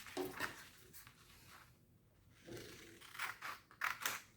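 Scissors snip square paper for an origami crane, giving faint, close crisp cuts that come in a few small clusters with quiet gaps between them.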